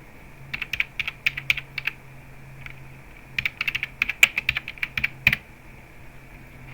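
Bursts of fast typing on a computer keyboard, quick crisp key clicks in two clusters separated by a short pause, close and fairly quiet with no voices.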